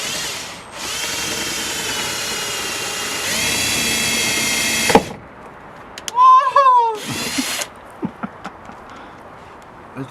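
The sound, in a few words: power drill screwing in splitter bolts on Ford Fiesta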